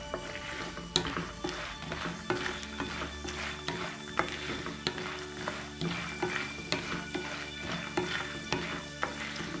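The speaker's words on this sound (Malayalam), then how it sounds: "എണ്ണയിൽ കിടന്ന് ഒന്ന് ഫ്രൈ ആവട്ടെ" Roasted gram dal frying in oil for a poha mixture, a soft steady sizzle broken by regular rhythmic stirring clinks against the pan.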